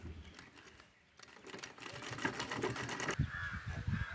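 A sewing machine double-stitching a fabric drawstring wrist bag makes rapid, close, rattling needle bursts that pause briefly near the one-second mark and then run steadily again. No one speaks.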